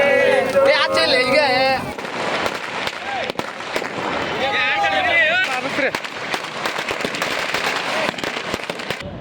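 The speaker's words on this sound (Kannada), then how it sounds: "ಅಪ್ಪು ಅಪ್ಪು ಎಂದು ಜೈಕಾರ ಹಾಕಿ ಪಟಾಕಿ ಸಿಡಿಸಿ ಯುವರತ್ನನ ಬರ್ತ್ಡೇ ಸೆಲೆಬ್ರೇಟ್ ಮಾಡಿದ್ರು" Firecrackers crackle and pop in rapid bursts amid loud cheering and a crowd chanting "Appu" outdoors at a birthday celebration for Puneeth Rajkumar held by auto-rickshaw drivers in Hubballi.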